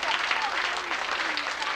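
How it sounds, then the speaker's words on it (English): Applause from a school assembly audience, steady dense clapping from many hands that fills the space continuously, moderately loud and even throughout, with faint voices mixed in. "Let's give them all a big round of applause because they've done just a great job."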